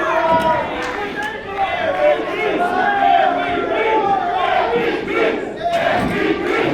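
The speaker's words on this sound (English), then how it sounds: "Listen to the crowd here" A packed pro wrestling arena roars for MVP in a loud, sustained wall of crowd noise, with chants and cheers rising and falling across the whole stretch.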